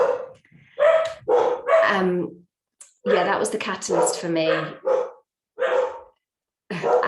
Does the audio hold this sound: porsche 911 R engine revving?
no